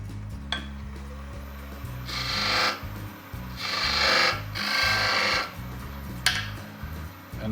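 A power tool cuts a small chamfer on a bird feeder part, giving three bursts of whirring, rasping cutting between quieter handling noise and a couple of sharp clicks.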